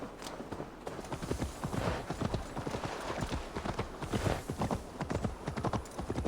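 Horse hooves clip-clopping at a steady rhythmic gait in Assassin's Creed Valhalla, close and fairly loud, continuing throughout.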